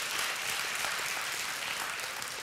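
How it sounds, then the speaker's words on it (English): Church congregation clapping hands together, a steady dense wash of applause that stays even and moderately distant for its whole short length, with no voices above it. "Give yourself a hand clap."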